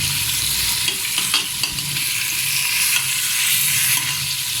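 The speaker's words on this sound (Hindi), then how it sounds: "प्याज को हमने इस कलर में रखना है, ज़्यादा ब्राउन नहीं करना। ये चिकन का कलर भी ये देखें" Onions and chicken frying in a pan for a turnip and chicken curry, a steady, loud sizzle with occasional stirring scrapes and clicks of a utensil, close and continuous with no talk.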